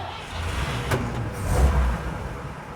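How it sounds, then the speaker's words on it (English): A freshly tuned-up car engine restarts while hot, a short close burst of cranking and catching that settles into a steady running rumble. "Let's see if it restarts. Hot restart coming up."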